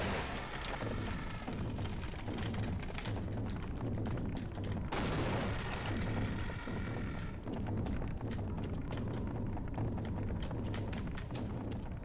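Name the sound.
Gauss cannon shooting Gonarch in video game Half-Life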